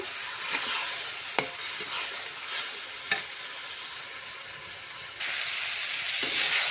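Ground spices, ginger, cumin and chillies fry with ridge gourd and potato in a pan, making a constant hissing sizzle punctuated by occasional spoon clinks, growing a bit louder toward the end.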